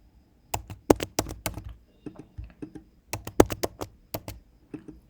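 Keys clatter on a computer keyboard as a new password is typed, two quick bursts of sharp, close clicks with a brief pause in between.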